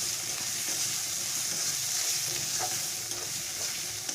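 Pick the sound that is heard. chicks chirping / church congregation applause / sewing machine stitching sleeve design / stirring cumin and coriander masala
stirring cumin and coriander masala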